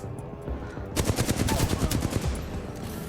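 Rapid automatic gunfire in the shooter game Titanfall 2 bursts in after a quiet moment, a close, loud string of sharp shots rattling for about a second and a half before fading.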